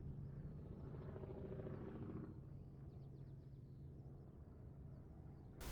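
A Polikarpov I-16 fighter plane roars past in an air-combat flight game, a low droning engine rumble that swells and then fades away, steady and fairly faint throughout.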